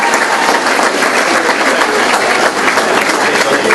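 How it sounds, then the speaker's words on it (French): Dense, loud applause fills the room at a tribute ceremony for community volunteers in Princeville, a continuous wash of many hands clapping together without a break. "en groupe, leur faire une bonne main d'applaudissement pour tout leur travail"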